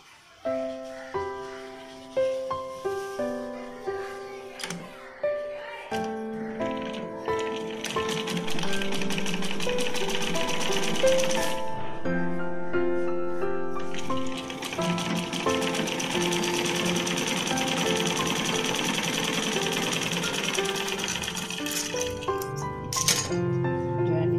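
Sewing machine stitching a folded seam on a blouse, starting in short separate bursts of stitching and then running steadily and loudly for long stretches with brief pauses, alone with no talk.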